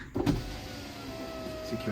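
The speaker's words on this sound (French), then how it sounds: "on va être obligé de la descendre" A car's rear-door power window being lowered, a steady electric motor whine running close up after a brief knock at the start.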